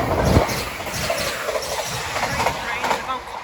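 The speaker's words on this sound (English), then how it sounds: "another freight train turning up" A freight train rolls through Doncaster station at night, a loud continuous rumble with clickety-clack wheel beats and a brief heavy thump at the start, with no one talking.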